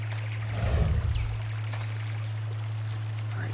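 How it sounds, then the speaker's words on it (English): Footsteps splash and slosh through water in a short burst in the video game Cabela's Big Game Hunter 2010, then fade, with a steady low hum underneath. "water is noisy when you walk through it."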